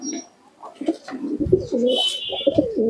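Napta pigeons coo in low, throaty phrases close by, with rustling and a brief high-pitched squeak partway through.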